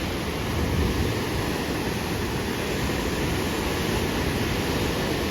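River water surges through the opened Koneripatti barrage, a loud, constant broadband roar with no letup and no voices over it.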